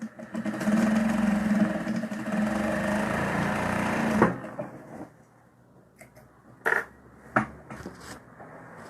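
A sewing machine topstitches fabric with a steady, close mechanical whir for about four seconds, then stops abruptly, followed by a few brief handling clicks and rustles.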